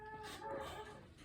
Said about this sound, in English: please excuse my dog who's barking outside